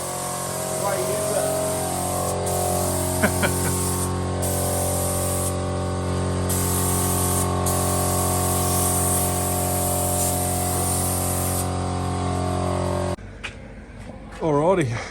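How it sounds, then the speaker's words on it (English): A spray gun hissing steadily and loudly at close range for about thirteen seconds with brief interruptions, then cutting off; someone talks over part of it. "Spray gun."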